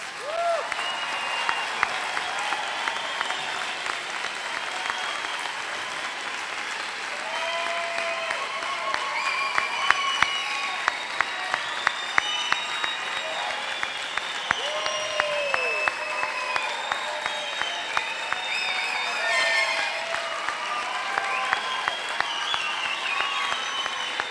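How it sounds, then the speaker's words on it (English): Sustained applause from a large audience for graduates at an MBA convocation, a dense steady clapping that continues for the whole stretch with scattered cheers and whoops rising above it. "Let's have one big round of applause for our graduates."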